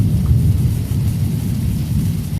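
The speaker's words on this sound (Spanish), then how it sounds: "una noche había una lluvia muy fuerte." Heavy rain pours steadily with deep rolling thunder, a loud continuous low rumble and wash filling the whole stretch before cutting off abruptly.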